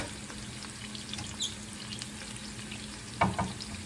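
Saltfish sizzles steadily in a hot pan for Panamanian-style saltfish and yuca, a continuous crackling hiss with a brief louder burst of spattering near the end, no voices over it.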